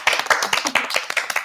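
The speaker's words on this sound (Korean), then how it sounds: "세 분께 박수." Audience clapping for three new nurses at a Korean hospital's nurse recruitment information session, a short burst of close, fairly loud rhythmic claps with no talk over it.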